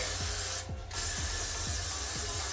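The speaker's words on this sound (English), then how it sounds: "now I have to go in with really strong hairspray" Strong hairspray is sprayed onto curly, layered hair in short hissing bursts, a steady close aerosol hiss with a brief gap, over faint repeated clicking in the background.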